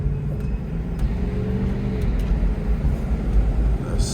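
A used car bought at auction idles and its engine revs as the gas pedal is pressed, a steady loud motor drone rising slightly, close and alone.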